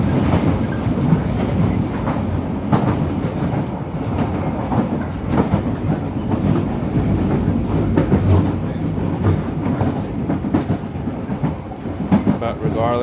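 A loud London Underground Piccadilly Line train runs through a station, a steady heavy rumble with clattering wheels and brief squeals filling all thirteen seconds, close and continuous with no pause.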